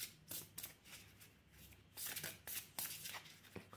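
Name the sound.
shuffling oracle cards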